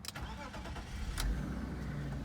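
A 1998 BMW 528i engine cranks and catches with a couple of sharp starter bursts, then settles into a low, steady idle close to the car.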